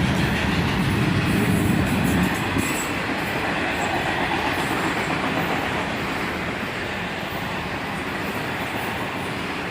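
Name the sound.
CSX northbound autorack freight train led by ET44AH and AC44CW locomotives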